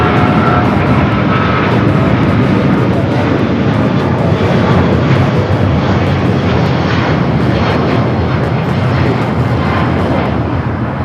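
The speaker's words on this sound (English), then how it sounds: "This is American Airlines Flight 4 taking off to JFK on the 777-200ER." An American Airlines Boeing 777-200ER takes off at LAX bound for JFK, its jet engines producing a loud, steady broadband roar that holds strong and unbroken for the whole stretch.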